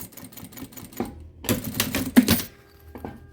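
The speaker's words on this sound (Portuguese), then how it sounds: "Simplesmente vou costurar a bordinha aqui, ó, do meio pra fora." Sewing machine stitching the edge of a quilted fabric pouch, a rapid rattling needle run in short bursts with pauses between, close and fairly quiet.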